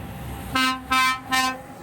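A passing train's horn sounds in three loud, evenly spaced blasts, each a rich harmonic chord lasting about a third of a second, close by and clear over faint background noise.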